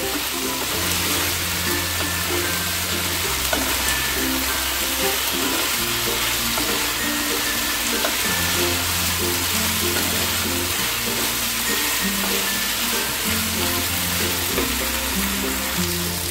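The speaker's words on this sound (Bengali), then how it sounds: "পনিরগুলো সমস্ত সসের সাথে ভালো করে মিশিয়ে নেব" Cubes of paneer stirred into sauce in a frying pan, with a constant hiss of sizzling and scraping stir noises over steady background music, without any talk.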